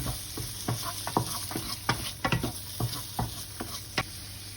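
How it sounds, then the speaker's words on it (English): Food for a spicy chickpea curry sizzles steadily in a pan, with repeated scraping and stirring clicks over the crackle; close and moderately loud, no talking. "Let's turn it down to 5 because that's sizzling quite nicely."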